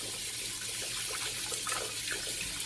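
Tap water runs steadily into a sink to rinse a shaving brush, a constant close splashing flow with faint irregular spatter over it.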